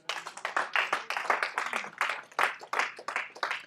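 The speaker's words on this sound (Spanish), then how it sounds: "Por menos que solo dé un aplauso al Señor" A church congregation claps together in praise during a sermon. The hand claps are crisp and rapid, with an even, rhythmic beat, and they sound fairly close and continuous throughout.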